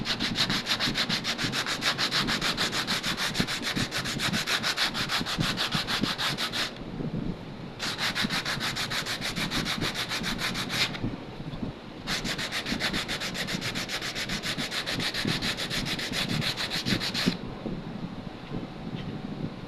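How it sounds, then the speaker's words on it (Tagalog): Steady rhythmic rasping of sandpaper scraping back and forth across wood, close up, with two brief pauses. "Lihain natin."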